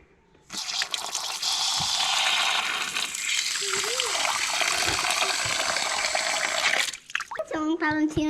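Water gushing steadily from an outdoor tap in Maenza, Italy, a loud continuous splashing stream for several seconds that stops abruptly, with a voice talking briefly near the end.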